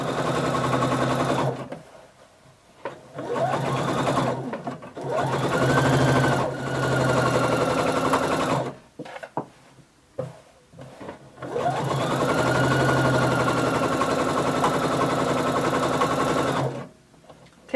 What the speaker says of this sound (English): You're just sewing the casing onto the bodice